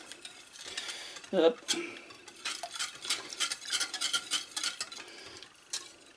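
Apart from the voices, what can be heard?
re-stirring cannelé batter with Maroilles cheese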